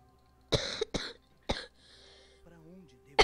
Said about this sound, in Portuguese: tô com muita tosse.